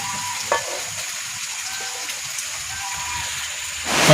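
Heavy rain pours down outdoors in a steady, dense hiss that holds evenly throughout, with a brief knock near the start and a louder swell at the very end.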